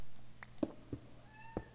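A cat meowing nearby during a Minecraft session, giving a few short meows in quick succession over a low steady hum in a quiet indoor room.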